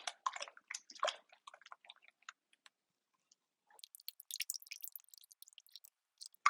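A spoon or whisk swirls frothy sourdough starter into water in a bowl, making quiet wet clicks and sloshes in short bursts, a pause, then a busier stretch of light splashy stirring.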